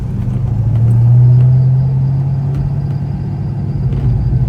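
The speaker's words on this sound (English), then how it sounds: "the Serpentine pulley noise is back" A 1995 Mustang GTS engine runs with a steady loud rumble and a sustained droning tone from the serpentine belt pulleys and idler, which rises briefly then holds, close up with no speech.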